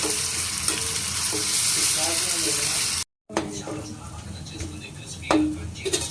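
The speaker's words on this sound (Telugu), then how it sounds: "ఇది నూనెలో వేగేసిన తర్వాత రొయ్యలు వేసేసుకోవాలండి." Ginger-garlic paste fries in oil in a pan, a loud steady sizzle with stirring, then after a short gap a fresh burst as prawns go in, while a voice talks over it.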